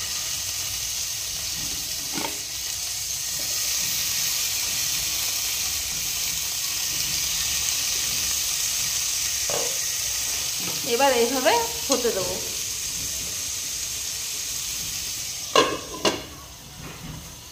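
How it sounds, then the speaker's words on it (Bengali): Chicken tikka skewers sizzle on a pan brushed with butter, a continuous close hiss with a few scrapes and clatters as pieces are placed, and someone speaks briefly over it. "ওদিকে একটা প্যান বসিয়ে দিয়েছি, আর প্যানে একটু বাটার ব্রাশ করে নিয়েছি। এবার একটা একটা করে দিয়ে দেবো।"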